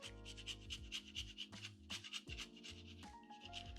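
Parmesan cheese grated over a plate of spaghetti and meatballs, a close rhythmic rasping of quick repeated strokes with tonal ringing underneath.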